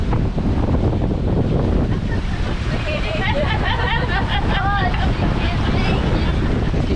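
A sailboat on a crossing off Corsica, heeled slightly and sailing at ninety degrees to the wind, with steady broadband wind rush and hull and water noise throughout, plus faint tonal creaks or whistles mid-clip.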